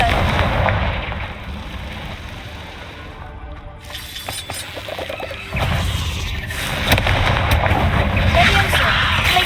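Confringo fire spell blasts in the Hogwarts Legacy video game, heavy booming bursts over a dense, continuous battle din, with a louder surge of impacts partway through and steady rumbling effects throughout.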